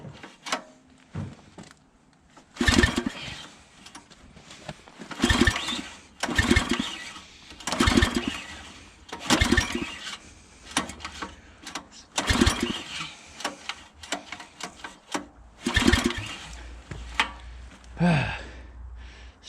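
A gas log splitter's small engine is cranked with repeated loud pull-start bursts at a steady rhythm, several tries in a row, before a low engine rumble sets in near the end.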